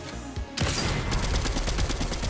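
Rapid gunfire in Marvel's Avengers game, a dense burst of repeated shots in quick rhythmic succession, loud and continuous after a brief lead-in.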